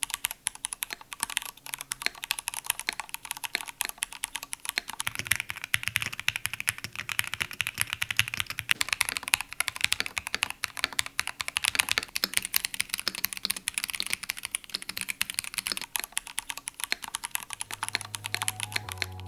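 Continuous fast typing on a Ducky mechanical keyboard with light keys that sound slightly scratchy, a dense close rattle of keystrokes running steadily throughout with no talk.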